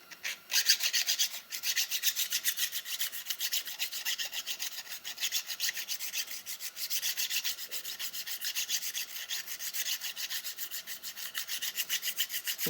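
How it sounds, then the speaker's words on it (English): A small file rasps burrs off a metal end cap on a Victor spring barrel, fast rhythmic back-and-forth strokes, close and steady throughout. "And you just take a small file."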